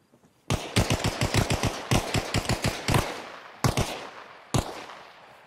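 Rapid pistol shots ring out close and loud during a one-on-one pistol duel in Arma Reforger, first in a fast string of about a dozen, then a few scattered single shots with short pauses.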